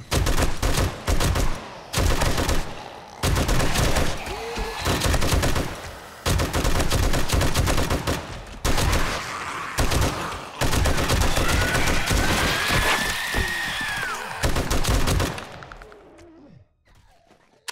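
Rapid automatic gunfire from a 120-round magazine in the video game 7 Days to Die, loud sustained bursts separated by brief pauses, tapering off near the end.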